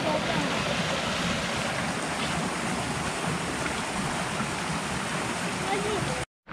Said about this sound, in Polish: Górski strumień, więc powinna być zimna jak lód.